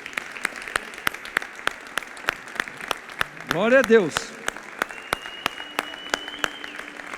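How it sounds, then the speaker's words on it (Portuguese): A church congregation at a Thursday service claps together in a steady rhythmic beat, each clap crisp and regular, while a voice speaks briefly partway through. "Então vamos dar uma salva de palmas para Jesus."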